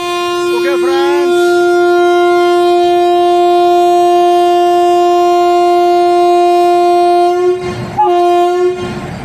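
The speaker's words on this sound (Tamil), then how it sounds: "நம்மளோட ஏற்காடு எக்ஸ்பிரஸ் அதனுடைய ஃபர்ஸ்ட் ரன்னை ஸ்டார்ட் பண்ணிருச்சு LHP கோச்சோட" The Yercaud Express, running with new LHB coaches, departs on its first run, sounding a long, loud, steady horn blast up close that ends in a brief stutter, with faint rail rumble beneath.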